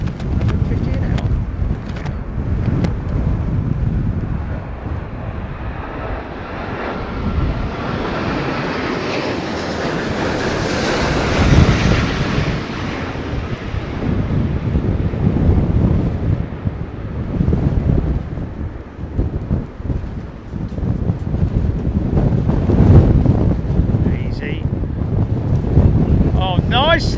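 Airliner landing at London Heathrow in strong Storm Darragh winds, a rumbling approach that swells and fades, with heavy wind buffeting the microphone and people talking throughout.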